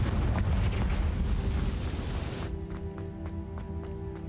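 A Confringo fire spell in the video game Hogwarts Legacy detonates in a loud, roaring blast that decays into a series of sharp crackling ticks and pops.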